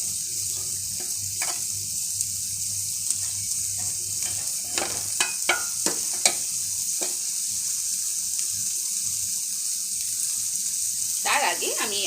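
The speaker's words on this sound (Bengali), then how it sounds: "এবার আমি এই যে সিদ্ধ করা নুডলসগুলো আছে সেগুলো দিয়ে দিব।" Boiled noodles and potato being stir-fried in a pan for homemade vegetarian chow mein, a soft steady sizzle with scattered scraping and clinking of a spatula against the pan.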